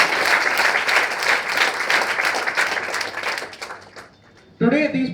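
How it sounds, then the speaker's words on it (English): Loud audience applause fills a hall for several seconds, a dense wash of clapping that thins and fades before a voice starts talking at the end. "A round of applause for both of them."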